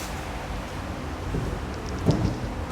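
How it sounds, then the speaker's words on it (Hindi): Steady rain patters on a surface in rainy weather while low rumbles of thunder roll underneath, one short louder swell near the end. "मौसम बारिश का है"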